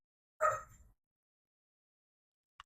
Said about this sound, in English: you might hear dogs once in a while. They're loud.